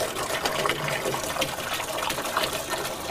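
Water pours steadily into a bin, a continuous gushing, splashing flow at close range, loud and even from start to finish.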